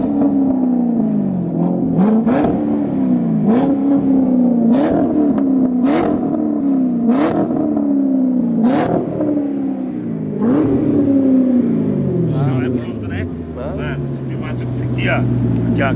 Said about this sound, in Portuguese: Eu sei que vocês gostam aí do ronco do Corvetão.